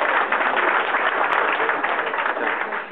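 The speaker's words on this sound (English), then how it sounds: "they get a round of applause for coming." A crowd at a community meeting applauds continuously, dense clapping holding steady for a few seconds before starting to taper.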